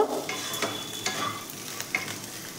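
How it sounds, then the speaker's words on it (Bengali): Okra being stirred in a pan with turmeric, sugar, salt and chili powder, a spoon scraping and mixing in irregular strokes over a soft sizzle, close and moderately quiet with no talk. "তারপর হলুদ গুঁড়ো দিলাম, তার সাথে চিনি দিলাম আর একটু নুন দিলাম, দিয়ে এগুলো মিশিয়ে নেব"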